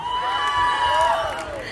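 Audience at a Nach Baliye couples' dance show shouts, whoops and cheers loudly and close by, a continuous wave of excited voices with rising calls layered over the crowd noise.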